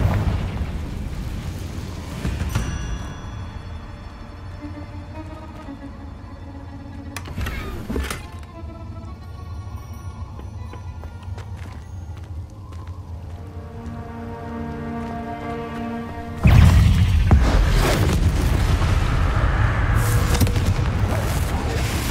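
Explosive Confringo spell blasts in the video game Hogwarts Legacy, with deep booms and rumbling low-end swells alongside game music, ending in a loud sustained roaring burst.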